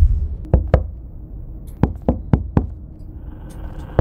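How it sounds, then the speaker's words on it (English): Knocking at a door in the video game Bark, two separate bursts of sharp knocks, first a double rap, then a quicker group of four, clear and close against a quiet background. "Investigate the knocking noise."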